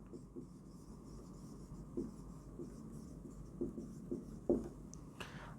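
Chalk or marker writing on a classroom board gives faint scratchy strokes in short bursts, quiet against a low background hum, with a brief louder scrape near the end.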